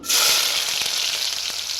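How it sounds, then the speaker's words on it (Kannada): Loud, steady frying sizzle of onions in hot oil, with a couple of soft stirring knocks partway through; no talking. "ಒಂದು ಪಾತ್ರೆಗೆ ಎಣ್ಣೆ ಹಾಕ್ಕೊಂಡಿದ್ದೀನಿ ಮತ್ತೀಗ ಈರುಳ್ಳಿ ಹಾಕ್ತಾಯಿದ್ದೀನಿ"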